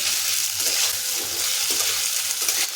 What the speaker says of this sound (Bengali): এখন আদা কাঁচা লঙ্কাটাকে ভালো করে ভেজে নিতে হবে যতক্ষণ না আদা কাঁচা গন্ধটা যায়